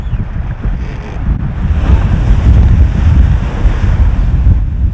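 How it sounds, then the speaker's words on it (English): A big wave strikes a racing sailboat rounding the Isle of Wight near the Needles, a loud rushing surge of water mixed with heavy wind buffeting close to the microphone, swelling midway and then easing. "That, sir, was a big wave."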